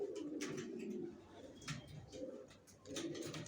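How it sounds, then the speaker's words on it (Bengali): Racer pigeons of the Johnson bloodline coo in a loft, a close series of soft, throaty coos rising and falling in short repeated phrases. "জনসন ব্লাড লাইনের কবুতর,"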